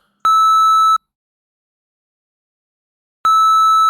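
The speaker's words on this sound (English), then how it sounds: "Just ignore that beeping." A computer with a hardware fault gives two identical loud, steady electronic beeps, each lasting under a second, about three seconds apart, with silence between and no voices.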